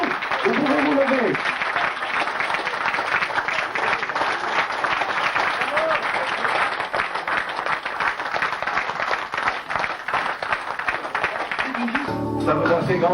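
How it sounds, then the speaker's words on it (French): Sustained applause from a large audience at a ceremony in Nice, dense and steady for most of the stretch before thinning near the end as a voice begins speaking. "Applaudissez-la très fort"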